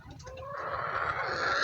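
Chickens clucking inside a village farm shed, where hens lay eggs on a littered floor, several birds calling at once in a steady, fairly close chorus with no voices.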